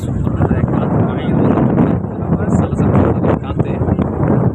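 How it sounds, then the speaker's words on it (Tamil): Strong wind buffets the microphone aboard a train crossing the Pamban bridge at Rameswaram, a loud continuous roaring rush with gusty swells that lasts throughout. "சலசலப்பு காற்று"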